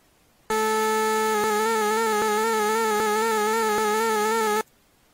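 A ProTracker sine-wave vibrato tone plays steadily, its slow wobble restarting each time one of several evenly spaced new notes retriggers.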